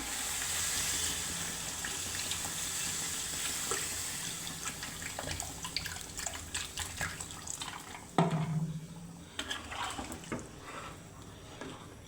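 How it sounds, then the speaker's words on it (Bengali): Water is poured into a pot of sautéed curry, splashing and trickling steadily at first, then breaking into uneven gurgles and drips with a sharper splash near the end. "তরকারিটা আমার কষানো শেষ, এখন পানি দিয়ে দিচ্ছি"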